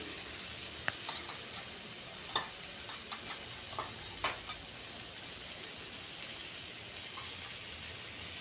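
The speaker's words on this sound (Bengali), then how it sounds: "এবার ভেজে রাখা মাছটাও দিয়ে দিচ্ছি" Pieces of fried rui fish are added to a quietly sizzling pan of well-cooked spice paste. A low, steady hiss carries a few soft clicks and taps as they go in.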